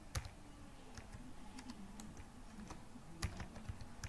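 Light typing on a computer keyboard, with quiet, irregular key clicks and a few sharper taps over a low background hum.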